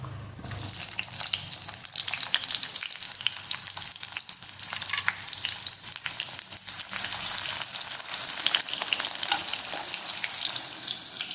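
Shallots fry in coconut oil in an iron pan with a loud, dense, continuous sizzle and crackle that holds steady throughout, close up and with no voices.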